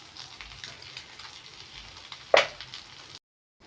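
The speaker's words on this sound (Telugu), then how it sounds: "ఇవి ఆయిల్లో ఫ్రై అయ్యాయి." Spices with chilli powder, salt and turmeric fry in hot oil, a soft steady sizzle close by, with one sharp louder crackle near the end before the sound cuts off.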